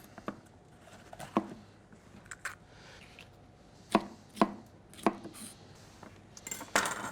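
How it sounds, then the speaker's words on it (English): A knife chops red capsicum into manageable pieces on a board, giving a series of sharp, distinct knocks at irregular spacing, close and moderately loud against a quiet kitchen. "So go ahead, cut your capsicum into sort of manageable pieces."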